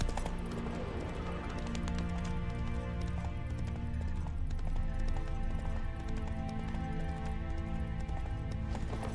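Hooves of the horse Roach gallop in steady rapid clip-clop rhythm in Witcher 3, a continuous loud drumming over a game music bed.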